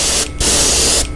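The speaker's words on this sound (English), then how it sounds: "I'm going to spray just a traditional white over the black." Airbrush spraying traditional white paint over black primer on a clamped fishing lure at about 38 psi, a loud steady hiss that cuts out briefly and then resumes.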